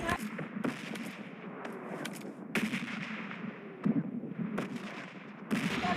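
Gunfire from an AWM sniper rifle in PUBG Mobile Lite during a duo match, with several sharp, loud shot bursts spaced irregularly over a constant bed of game ambience.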